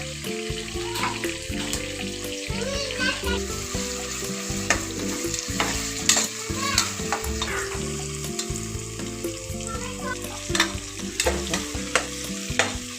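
Tomatoes stirred into onions, green chillies and kasuri methi frying in oil for chicken sambar, with steady sizzling and repeated scraping stir strokes throughout, up close and fairly loud, with no talking.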